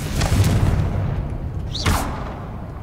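Confringo fire blast spell in Hogwarts Legacy, a heavy booming burst at the start with a rumbling tail, then a second whooshing blast that sweeps upward near the end.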